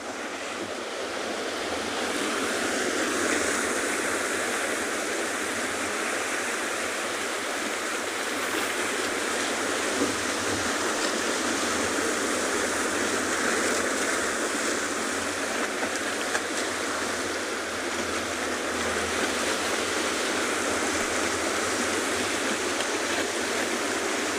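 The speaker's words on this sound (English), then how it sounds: "We've got some local birds calling behind us and lots of beautiful waves crashing." Ocean waves crash on a South African shore in a steady, continuous roar of surf with wind noise, no voices over it.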